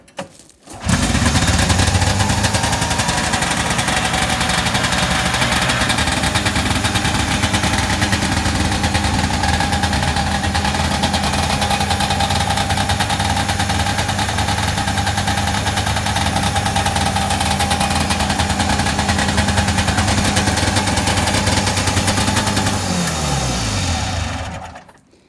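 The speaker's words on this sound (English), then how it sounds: "As you can tell, the idle is set quite a bit high and the choke is currently pulled" Rebuilt 1979 John Deere Trailfire snowmobile engine idling fast with the choke pulled indoors, a loud steady two-stroke buzz that starts abruptly, runs unchanged, then cuts off near the end.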